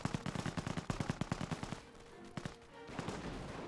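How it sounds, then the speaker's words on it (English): Gunfire in the Company of Heroes video game, a rapid machine-gun burst of evenly spaced shots followed by scattered single reports and a rumbling background, moderately close and loud, with no talking. "Base is under enemy fire."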